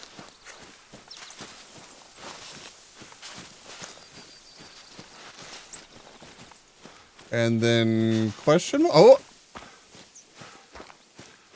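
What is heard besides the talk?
animal stomping around in theHunter: Call of the Wild video game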